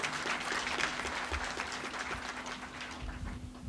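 Audience at a ministry New Year's greetings ceremony breaks into sustained, steady applause, a dense clatter of many hands clapping at close range with no voices over it.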